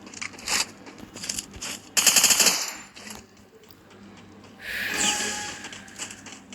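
P90 and SKS gunfire from Free Fire clash squad gameplay comes in several sharp, loud bursts of rapid shots separated by brief gaps, with no talk over it.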